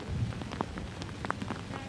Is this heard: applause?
no